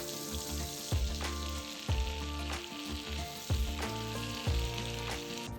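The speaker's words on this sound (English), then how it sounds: "setting the tenderloin down into it to start searing on the very first side of the meat" Seasoned pork tenderloin sears in a hot pan, giving a steady loud sizzle and crackle with a few sharper bursts of spitting fat; no one speaks.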